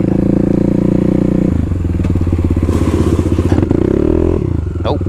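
A supermoto motorcycle revs loud and close in a turn while the rear wheel spins on dirt, the engine note rising and shifting with a harsh crunch and scrape of loose ground.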